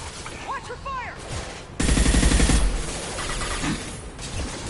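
A battle in the Mass Effect 2 video game, with dense bursts of automatic gunfire hammering loudly for nearly a second, set among softer shots, clanks and effects, and voices calling out over the fight.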